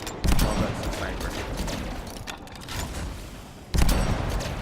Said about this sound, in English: What is that? Oh, that's the sniper.